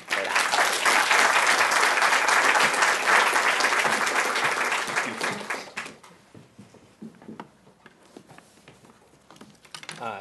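A seminar audience applauds to welcome a speaker at a healthcare debate talk, a loud, dense roomful of clapping that holds steady for several seconds, then thins to scattered claps and fades out.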